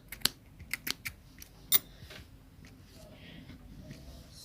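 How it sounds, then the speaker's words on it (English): Yarn end snipped off a crocheted ribbed beanie, a few crisp scissor snips near the start, then quiet handling sounds with faint talk. "you can now cut the end off"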